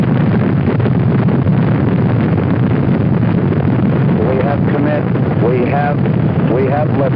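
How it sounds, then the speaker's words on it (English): Apollo 8 Saturn V rocket engines at liftoff, a continuous loud broadband roar with wind-like rumble throughout, with a voice speaking over it. "We have ignition sequence start. The engines are on."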